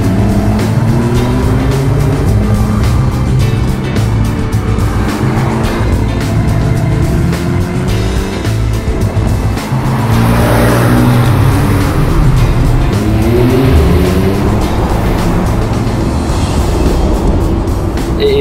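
A Porsche sports car drives hard on winding mountain roads, its engine loud and near as it climbs and drops through repeated gear changes, with a brief squeal of tires.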